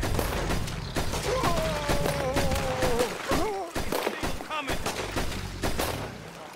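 Gunfire in Red Dead Redemption 2 crackles in dense repeated bursts, loud and close, with other game sounds and a voice running underneath.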